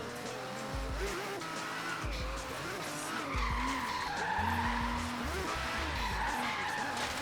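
A Datsun 240Z with 290 horsepower drifting in Forza Horizon 3: a continuous engine roar with long tire squeals and skidding as the car slides sideways, loud and close, while a voice talks over it.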